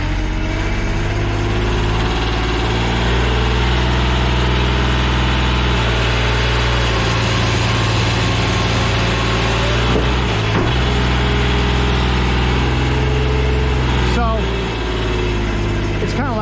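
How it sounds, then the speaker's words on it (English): Firewood processor's saw and engine running steadily at low throttle, a loud continuous mechanical drone with a constant hum that holds for the whole stretch. "as soon as you go to engage the saw to come down, it automatically starts running"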